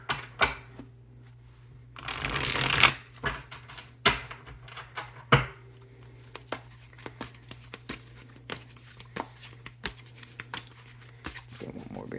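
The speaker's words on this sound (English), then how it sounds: "Shuffle." A deck of tarot cards is shuffled close by, a burst of rapid riffling followed by scattered taps and soft card slaps, with a faint steady hum underneath.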